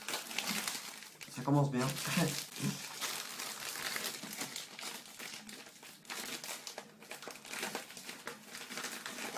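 Packaging of a LEGO Movie 2 set, number 70825, being opened up close: sharp crinkling and tearing of the wrapper runs throughout, with a person speaking briefly over it.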